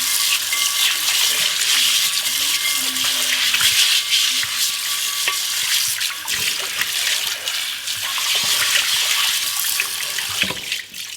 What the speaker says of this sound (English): as soon as I rinse some water in here and then just use a simple scrubber, it should come right off